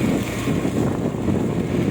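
Strong wind gusting hard over flooded farmland in San Miguel, Bulacan, tugging at an umbrella: a steady, close roar of buffeting against the microphone with no break for the full two seconds.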